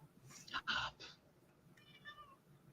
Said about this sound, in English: My cat is yapping again.